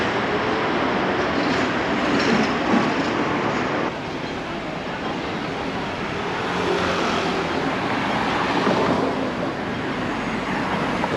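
A Hong Kong double-decker electric tram rolls past on its street tracks, a steady broad rumble of wheels and traffic noise holding throughout at moderate loudness with no speech.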